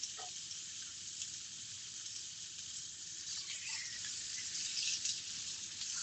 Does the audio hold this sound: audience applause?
no